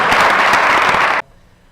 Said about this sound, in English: Give these high school students another round of applause